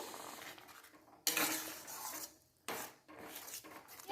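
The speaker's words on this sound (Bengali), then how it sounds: "এবার আমি দুধটা দিয়ে দিচ্ছি।" Milk poured into a hot pan of fried carrots, giving two loud bursts of hissing sizzle, the second one fading more quickly, with scraping and clinking of the pan between them.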